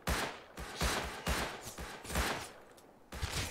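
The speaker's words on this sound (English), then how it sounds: "Where are you shooting me from?" Video game gunfire in a three-way online match, with loud bursts of rapid shots that repeat roughly every half second to second, close and punchy, with no voices over them.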